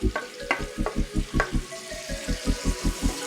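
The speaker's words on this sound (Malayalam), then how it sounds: "സവോളയും വെളുത്തുള്ളിയും ഇഞ്ചിയും പച്ചമുളകും കൂടി ഒന്ന് പതുക്കെ വഴറ്റിയെടുക്കാം." Sliced onion, garlic, ginger and green chilli sauté slowly in oil over low flame, with a rhythmic run of spatula strokes scraping the pan about four times a second over a soft, close sizzle; no one speaks.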